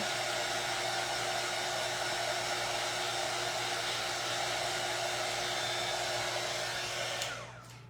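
A hair dryer blows steadily at close range, drying the surface of a truck before transfers go on, a loud continuous whir that cuts off abruptly near the end.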